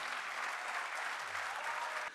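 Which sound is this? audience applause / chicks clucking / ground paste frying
audience applause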